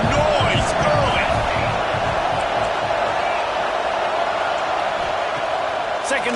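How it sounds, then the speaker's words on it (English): Crowd at a college football stadium during Florida vs Texas A&M, a dense continuous roar that holds loud and steady throughout, with scattered whoops and shouts rising from the mass of voices. "This crowd bringing the energy and noise early."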